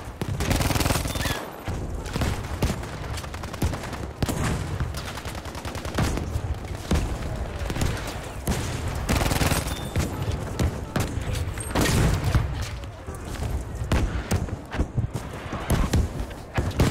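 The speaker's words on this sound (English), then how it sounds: "This gun is nasty." Loud, dense gunfire from a gun in the shooter game Battlefield 5: rapid shots and bursts repeat almost without pause for the whole stretch, mixed with other game noise.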